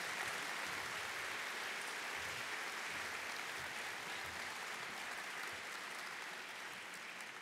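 A conference audience at CNU 22 in Buffalo applauds a retiring CNU leader named John. A continuous wash of clapping holds evenly throughout, soft and somewhat distant, with no speech over it.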